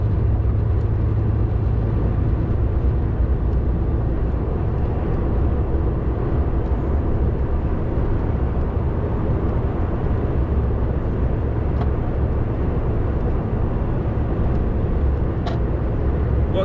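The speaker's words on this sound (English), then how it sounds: "A lot of motorway driving today" Delivery vehicle cruising on a UK motorway, a steady loud low road and engine drone with tyre roar from inside the cab, unbroken throughout.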